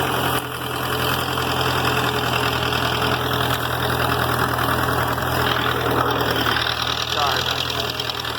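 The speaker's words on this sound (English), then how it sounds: "You always gotta listen to me over the tractor." An International B275 tractor engine idles loudly and steadily with a knocking rumble while raking hay, and a voice is partly masked beneath it.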